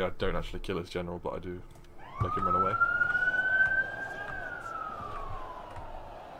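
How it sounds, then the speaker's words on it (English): Police car siren on a busy road outside a home rises into a sustained wail partway through, moderately close, after someone speaks; the tone holds steady then slowly drops as it passes. "Excuse the police siren."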